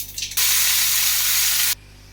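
Mustard seeds and a little cumin hit hot oil with a sudden loud, steady sizzle that hisses for over a second, then cuts off abruptly.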